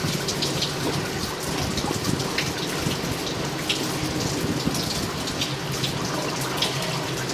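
Steady rain pours down throughout, a dense hiss with scattered drops splashing on hard surfaces, heard during a sewer line cleaning and inspection, with no voices.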